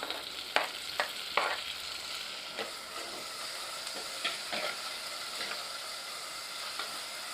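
Chopped tomato and masala fry together in a pan for a Goan-style prawn head curry, giving a steady close sizzle. Quick scraping and clacking strokes of a spoon stirring sound mostly in the first few seconds, with no talking.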